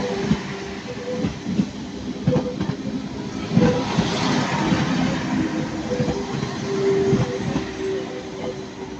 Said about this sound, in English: Transport for Wales leaving. 197015 on the front.